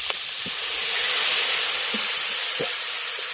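Spices sizzle in hot oil with chopped tomato and a splash of water, making a steady loud hiss with a few soft clicks and stirring knocks. They are cooking for a banana-flower dish.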